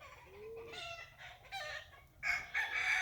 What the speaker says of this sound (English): Chickens are going crazy over there.